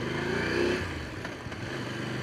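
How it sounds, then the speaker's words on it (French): A Voge DS900X motorcycle pulls from low revs, its engine droning loud and near, climbing then easing as it rides on, with no talking. "La reprise en bas régime, c'est pas mal."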